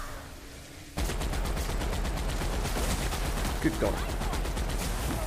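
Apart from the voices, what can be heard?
heavy machine gun firing in the video game The Outer Worlds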